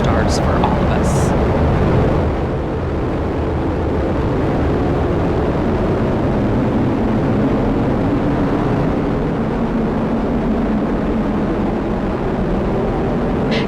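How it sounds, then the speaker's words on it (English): An Atlas V rocket carrying the crewed Boeing Starliner lifts off, a steady, dense rumbling roar that fills the scene from start to finish while a voice talks over it. "And liftoff of Starliner and Atlas V, carrying 2 American heroes"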